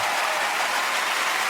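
Applause from a comedy club audience fills the space as a dense, steady wash of clapping with no gaps, loud and close throughout.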